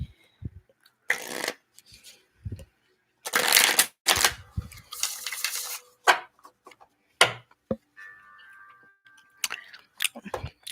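Tarot cards are shuffled by hand at close range in irregular bursts of riffling and rubbing, with short pauses between the bursts.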